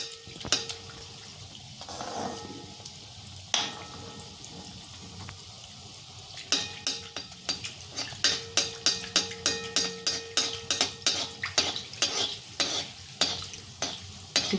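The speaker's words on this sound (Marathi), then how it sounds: "बारीक गॅसवरच आपल्याला गुलाबजाम तळायचे" Gulab jamun fry in oil on a low flame, with a gentle bubbling sizzle under a run of rhythmic spoon or ladle taps and stirring clinks that grow busier toward the end.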